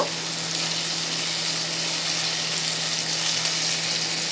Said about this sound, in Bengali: সবগুলোকে একসঙ্গে একটু নাড়াচাড়া করে নেব।